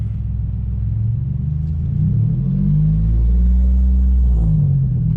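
A 2009 Mitsubishi Eclipse GT pulls away slowly, its deep engine rumble swelling steadily as it starts moving, heard close and loud without talk.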